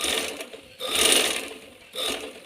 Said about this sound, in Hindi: इस तरह हम सारी भी सिलाई ऐसे लगा लेंगे मशीन से।